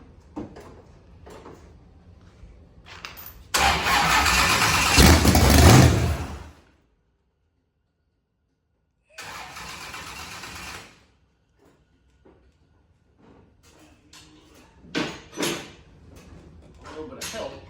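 A drag race car with a freshly reinstalled motor, prepped for a no-prep event, fires up in a loud roaring burst of about three seconds, then cuts out; a second shorter run follows, with scattered shop noises and clicks around it.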